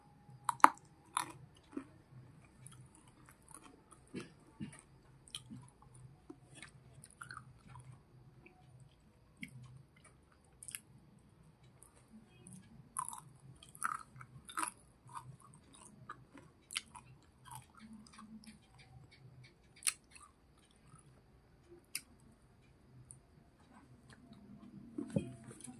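Close, quiet chewing and biting while eating fried fish and fish curry, a long run of irregular soft crunches and wet squishes with occasional sharper clicks and no talk.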